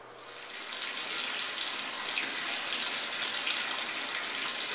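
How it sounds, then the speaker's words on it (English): Water gushes steadily from a faucet into a tub being filled for washing an instrument, a close, continuous hissing rush that swells in the first second and then holds steady. "add some cool water, because you don't want to damage the finish of your instrument."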